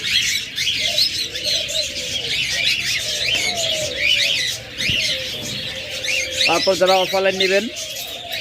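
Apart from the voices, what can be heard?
budgerigar or cockatiel breeding pair calling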